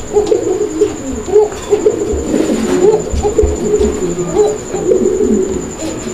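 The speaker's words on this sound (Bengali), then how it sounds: "এটা কোকা কবুতর।" A koka pigeon, one of a breeding pair offered for sale, coos close by in a steady run of soft, throaty calls that repeat over several seconds, with no talk over them.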